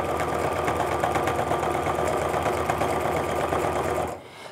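Home sewing machine stitching through a quilt during ruler quilting, a steady fast mechanical whir and rapid needle rattle running continuously up close, then stopping abruptly near the end.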